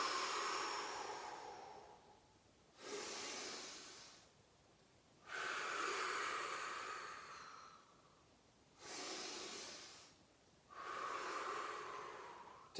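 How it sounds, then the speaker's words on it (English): Slow, audible breaths in and out during a gentle morning shoulder exercise, five long airy breaths alternating with quiet pauses, close and soft with no talking. "you're going to breathe in. And as you come forwards, breathing out."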